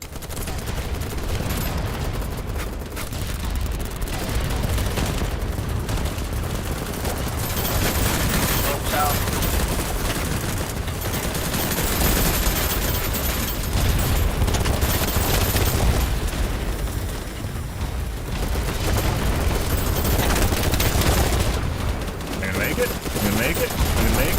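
Rapid PP2000 submachine gun fire in the BattleBit video game, continuous dense bursts under game noise and occasional talk throughout.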